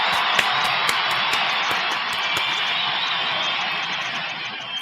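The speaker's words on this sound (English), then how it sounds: "Let me go and get a round of applause for everybody who kicked it with us tonight." A live podcast audience gives a round of applause, a steady wash of clapping and cheering that holds at a fairly even level throughout, with a few sharper claps standing out near the start.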